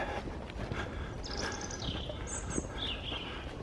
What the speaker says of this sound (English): Nice to hear all the birds.